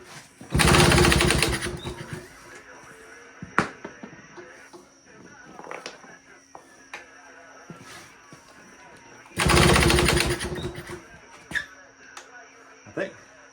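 A vintage 1940s Homelight HRA 42-volt, 115-volt generator engine fires in two loud bursts of rough running, with sharp pops, clicks and quieter stretches between the bursts.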